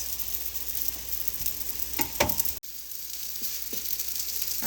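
Malwa pastries frying in a pan, a soft steady sizzle with a few utensil scrapes and taps as they are flipped midway.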